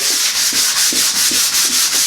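Furniture being sanded by hand with 100 grit sandpaper, a loud, steady back-and-forth rasping with about a dozen even strokes close up and no voices.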